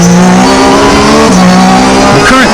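A race car driven fast on a circuit on used racing tires with a raised rear wing, its engine loud and close, pitch rising and dropping through gear changes with a brief tire squeal.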